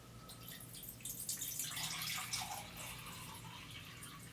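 Filtered water poured into an 8-quart pot holding sugar for pear vanilla jam, a steady splashing trickle that swells in the middle and settles into a softer pour, close and alone.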